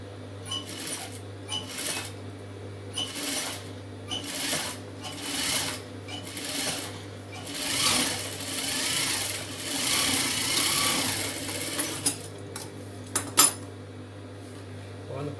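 A sewing machine stitches a blouse back in bursts of rapid needle chatter, starting and stopping repeatedly, with a few metallic clicks near the end and no speech.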